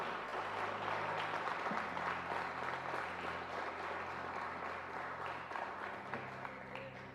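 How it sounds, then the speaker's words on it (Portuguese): Church congregation applauding in praise during a sermon, a steady dense wash of clapping that carries evenly through the whole stretch with a low hum beneath it. "Cara, aplaude Jesus, vamos aplaudir Jesus."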